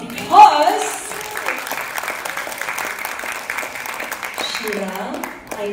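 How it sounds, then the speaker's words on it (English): Audience applause in Malaysia for a singer, a steady wash of clapping at moderate distance, with voices and a brief louder sound near the start. "let's give her a round of applause"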